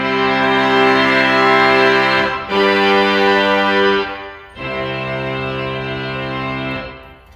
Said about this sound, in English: The louder stops sound like this.